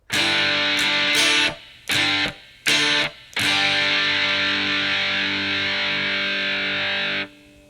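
Distorted electric guitar strums the chords of a song, with several sharp stops that cut the sound dead between them, then a long sustained chord that rings loud and alone before it is cut off.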